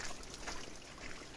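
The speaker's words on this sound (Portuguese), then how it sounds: "Ainda a água corre bastante," Running water flowing steadily after a landslide on a damaged hillside road, a soft continuous trickling wash, faint and without speech.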